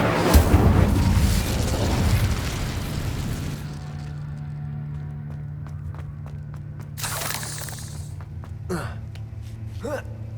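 An Incendio fire spell cast in the Hogwarts Legacy video game on PS5: a loud whooshing, rumbling burst that fades into a low hum, followed by scattered sharp clicks and a couple of brief rushing bursts.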